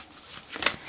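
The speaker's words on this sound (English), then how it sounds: "Can we get another shuffle here?" Tarot cards are shuffled close up in a quick riffle, with two bright bursts of card flutter near the end.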